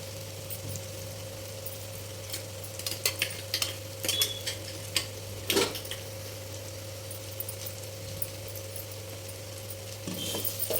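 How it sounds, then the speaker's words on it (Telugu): Ground masala is stirred into brinjal curry frying in a pan, with scattered scraping clinks of a spoon against the pan over a low continuous sizzle and a steady background hum. "మసాలా అంతా ముక్కలకు పెట్టే విధంగా ఒకసారి కలుపుకుందామండి"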